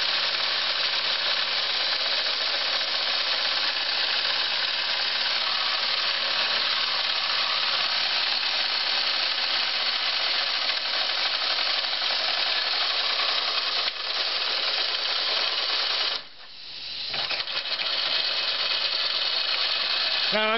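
An electric-style motor spinning while driven by a small steam engine, a continuous loud whirring hum with a brief dip and interruption near the end.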